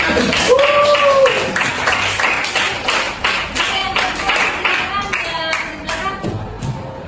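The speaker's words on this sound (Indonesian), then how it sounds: "Oke, kita kasih aplaus" Applause and clapping from a classroom of students rings out loud and steady for several seconds, a dense patter of many hands with voices murmuring through it.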